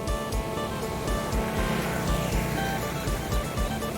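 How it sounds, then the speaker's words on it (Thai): Water flows steadily at a fish lift-net spot on a stream, a continuous broadband rush with small splashy surges throughout, fairly close and alone with no talk. "น้ำไหล"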